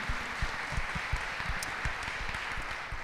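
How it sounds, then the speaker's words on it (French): Audience applause at a round-table conference, a dense continuous patter of clapping at moderate level with some low thumps underneath, steady throughout the short stretch. "on peut l'applaudir là-dessus"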